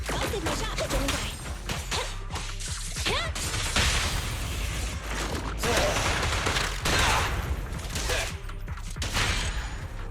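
Gunfire and combat effects in the video game Zenless Zone Zero: dense bursts of shots, impacts and whooshes pile up continuously and loudly, layered over game music with no clear pauses.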